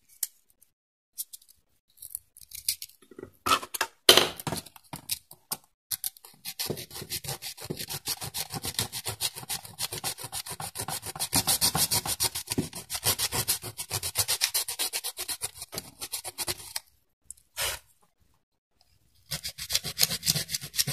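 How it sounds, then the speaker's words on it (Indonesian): Steady back-and-forth rasping of very fine sandpaper on a circuit board, close and rhythmic, with a few short pauses between bursts of strokes. "Kita gunakan amplas paling halus."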